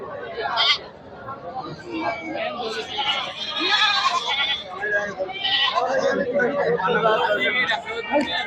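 Several goats bleat repeatedly amid a dense hubbub of crowd chatter and voices at a crowded Eid al-Adha livestock market, busy and close throughout.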